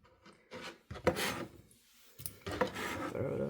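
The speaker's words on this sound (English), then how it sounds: "I'm using the wrong knife for the tomatoes" A kitchen knife slicing tomatoes on a cutting board, a few separate rasping strokes with short pauses between them, close and fairly quiet, with a light tap of the blade on the board.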